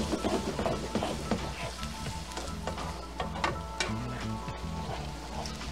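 Broth being stirred into parmesan risotto rice in a pan, a soft continuous sizzle with wet scraping and stirring strokes, close and fairly quiet, without speech.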